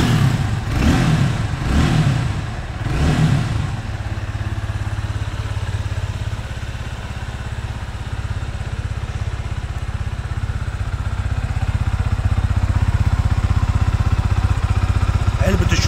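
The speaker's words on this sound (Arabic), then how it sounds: "ده صوت الموتوسيكل" A Wing Honda 190 motorcycle with a stamped Honda exhaust muffler is started and revved up close, a few sharp throttle blips at first, then settling into a loud, steady idle rumble that swells again near the end.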